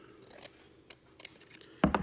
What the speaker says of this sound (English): I'm going to cut my tarlatan in half.